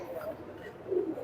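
A pigeon gives a faint, low coo, swelling slightly toward the end, against quiet background murmur that may include a nearby voice.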